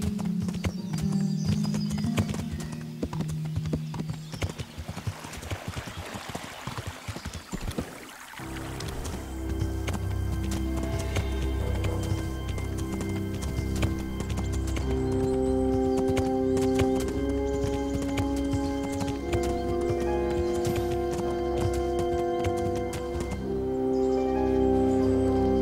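Video game horse hooves clip-clop in a steady rhythm, with a loud whinny partway through and background game music carrying on under them.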